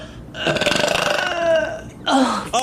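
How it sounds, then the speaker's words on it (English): A woman lets out a long, loud, close burp with a rattling pulsed texture, followed after a short pause by a second shorter burp. "She goes back and burps another set for her rating."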